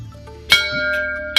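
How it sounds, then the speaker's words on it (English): A school bell rings out for lunch, a single sharp bright strike with sustained metallic tones ringing on for about a second, then a second strike at the end. "The bell, and time for some lunch."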